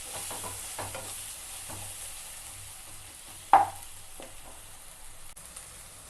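Chicken mixed with spinach being stir-fried in oil, a low steady sizzle with occasional spoon scrapes and one sharp knock against the pan partway through, no talking.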